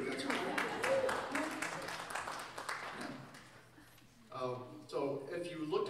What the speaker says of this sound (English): you can clap for Newark